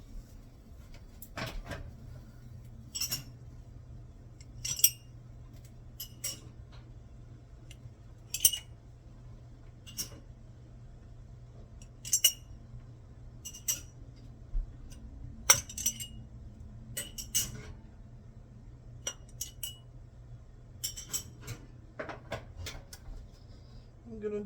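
Glass canning jars set down on a kitchen counter during soup canning, scattered light clinks and taps at irregular intervals over a low steady hum.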